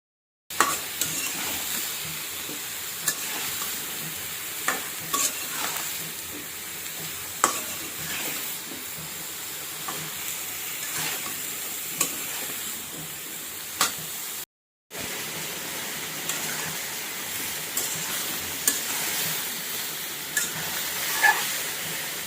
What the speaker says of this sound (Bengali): এরপর কেটে রাখা লাউগুলো দিয়ে ভালো করে কষিয়ে নিচ্ছি।